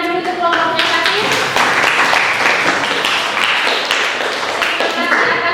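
Steady applause from a classroom of students for a student group after its presentation, a dense continuous patter of many hands clapping fairly close, with some voices mixed in throughout.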